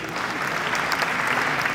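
A burst of hearty applause from the audience at the opening ceremony of the Abidjan International Book Fair, thick and continuous, close and fairly loud.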